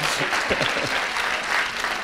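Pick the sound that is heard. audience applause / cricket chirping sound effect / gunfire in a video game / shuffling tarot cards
audience applause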